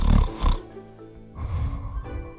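A storyteller's voice imitates a bear snoring, giving two deep, rumbling snore-like breaths, close and loud, separated by a brief pause.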